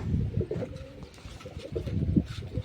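Pigeons coo in low, throaty bursts, several birds close by, with soft rustling between calls.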